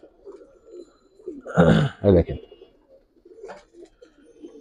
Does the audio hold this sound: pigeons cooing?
yes